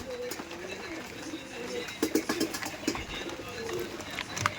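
Pakistani Chotiyal breed pigeons cooing at close range in a loft, low repeated murmuring coos in several bursts, with scattered rustling and flutter around them.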